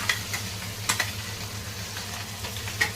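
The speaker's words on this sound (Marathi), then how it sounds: "आता ह्याच्यामध्ये हा बटाटा टाकून घेऊया" Boiled potatoes tipped into a pan of hot tempering for Maharashtrian puri bhaji, giving a steady low sizzle with a few sharp scrapes and clinks of a spoon stirring.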